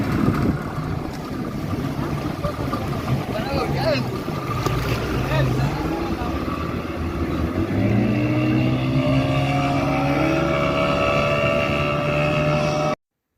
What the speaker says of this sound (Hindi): ये मेरी जेट स्की वापस आ रही है।